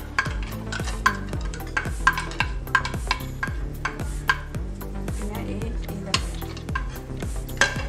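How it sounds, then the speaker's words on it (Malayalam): Almonds and cashews sautéing in ghee for sheer khurma, with a steady sizzle and a spoon repeatedly scraping and stirring around a metal pan in a rhythmic pattern, up close and fairly loud. "ഇതെല്ലാം കൂടി നമുക്ക് നെയ്യിലിട്ടൊന്ന് വഴറ്റിയെടുക്കണം."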